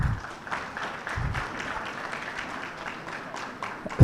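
An audience at an insurance day event applauds for a panel with a soft, steady patter of clapping that continues at moderate loudness throughout.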